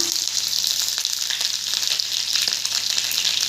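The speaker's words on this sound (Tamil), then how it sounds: "நெய் நல்லா சூடாயிடுச்சு நான் வந்து கொஞ்சம் முந்திரி பருப்பு எடுத்திருக்கேன் அதையும் போட்டுக்கலாம்" Cashews and small pieces of ginger sizzle in hot ghee, a steady, close, crackling fry with no pauses.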